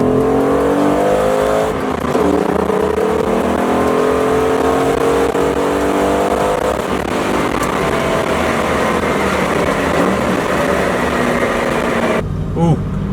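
A Ford Mustang GT with a muffler fitted revs hard and accelerates, a loud continuous roar with rising pitch and gear changes, close by, with a brief voice near the end.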